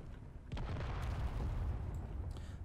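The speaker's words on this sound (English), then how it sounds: "That was a sound of something exploding." A muffled explosion in the video game Space Engineers booms and rumbles, fairly faint, fading out with a low crackling tail.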